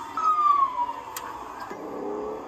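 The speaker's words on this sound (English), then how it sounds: "there is an ambulance behind us" An ambulance siren wails as it passes on the road, a clear sweeping tone that falls in pitch over a couple of seconds, heard from inside a car with steady road noise underneath and no talking.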